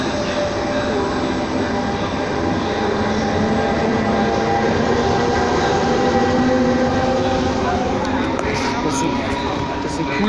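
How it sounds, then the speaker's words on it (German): An Italian high-speed train pulls into a station, rumbling steadily nearby with continuous rail noise and faint clatter, while a voice talks over it. "Da fährt gerade wieder ein Zug ein."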